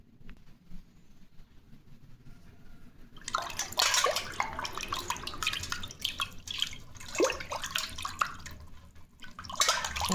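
Water splashing and dripping as organic turmeric powder is stirred into a vessel of water for washing vegetables, a quiet start giving way to steady close sloshing and trickling with no talk.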